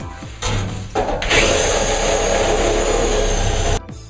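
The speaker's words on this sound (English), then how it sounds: "I'm going to use my handy sawzall, cut it right out of there" A reciprocating saw cuts through bathtub piping during a bathroom renovation, starting in short bursts and then running loud and steady for a few seconds before stopping abruptly, with no talk.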